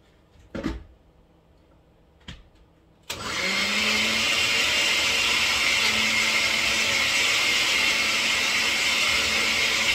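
After a couple of brief knocks, a blender starts up and grinds ingredients for alphabet soup, a loud, steady whirring hum that runs continuously to the end.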